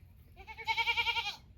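A goat with a broken horn bleats once on a farm, a clear, wavering cry lasting about a second, close by and loud over quiet low background noise.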